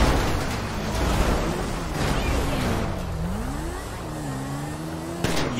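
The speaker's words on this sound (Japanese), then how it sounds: "それでも車を走らせ続けます。" A cash transport van is driven through the streets of Los Santos in GTA5, its engine droning steadily close by and the pitch wavering and rising as it speeds up, with a faint voice underneath.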